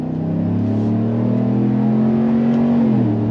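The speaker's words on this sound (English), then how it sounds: "And then the best part is going on throttle." A 2025 GMC Sierra 1500 Denali Ultimate with its naturally aspirated 6.2-liter V8 pulls hard under throttle, a loud, steady, deep engine drone that climbs and then eases slightly near the end, heard from inside the truck with no talking.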